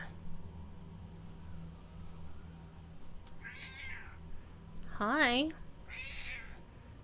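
A cat meows several times, with short rising and falling cries close to the mic over faint background hum and game sounds, after a brief spoken greeting.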